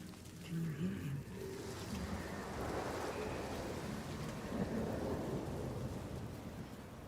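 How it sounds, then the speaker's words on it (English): Storm ambience in the video game Hellblade 2, with steady heavy rain and deep rolling thunder rumbling continuously through the scene; a faint voice murmurs beneath it. "He brings the storms with him."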